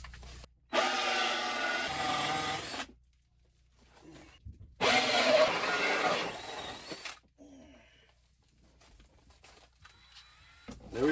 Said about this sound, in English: Okay, let's drill that one.